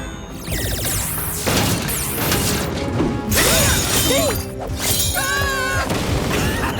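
Stage lights crash down and shatter in a cartoon scene, a series of loud smashing impacts with glassy debris and clattering, backed by music-like tones and effects.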